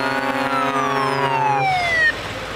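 A volunteer fire brigade truck drives onto a parking lot during a fire brigade anniversary event, its siren wailing loud and close in a descending tone before cutting off, leaving engine rumble.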